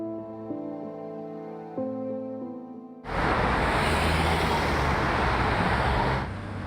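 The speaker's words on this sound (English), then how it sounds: "The noise of rush hour traffic along Bush Boulevard in Tampa" Rush hour road traffic on Bush Boulevard in Tampa arrives after a few seconds of tonal music as a loud, steady roar of passing vehicles that holds at constant level and then eases slightly at the end.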